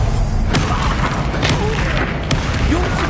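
Expelliarmus disarming spell cast during a hectic Hogwarts Legacy duel, heard as a few sharp, loud booming impacts over a dense, constant bed of game effects and clatter.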